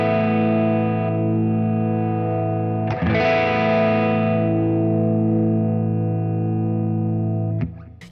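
A Les Paul electric guitar played through a Boss IR-200 amp simulator rings out with a heavily distorted sustained chord, re-struck once near the middle and cut off with a final pick attack near the end, with no talking.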